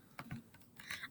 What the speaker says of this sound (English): start typing in my name